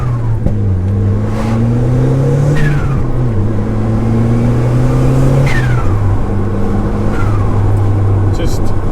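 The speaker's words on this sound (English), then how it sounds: "just gorgeous turbo noises" A turbocharged Mazda MX-5 engine revs up and down repeatedly with a rising and falling turbo whine, loud and close, steady throughout with no pauses.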